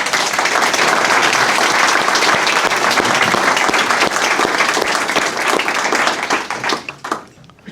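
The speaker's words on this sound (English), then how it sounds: "could we have a round of applause for our panel?" Event audience gives a round of applause for a panel after an MLOps debate on AI agent security, loud dense clapping sustained for several seconds before thinning into a few last claps and fading.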